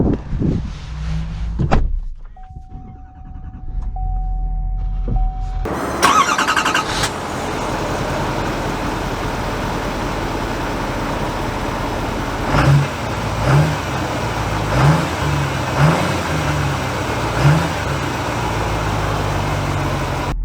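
A 2022 Chevy Silverado 3500 High Country pickup: a door thuds shut, then the engine cranks and fires, settling into a steady idle and low drive hum with a few soft regular clicks over it.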